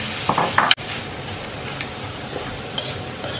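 Ground meat for empanada filling fries in a pan with carrot and potato, a low continuous sizzle with a burst of scraping stir clatter early on, then quieter frying, close by with no talk.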